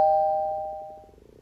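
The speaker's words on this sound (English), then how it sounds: "Doorbell" An electronic doorbell chime rings once, a clear sustained tone that slowly fades out in a quiet room.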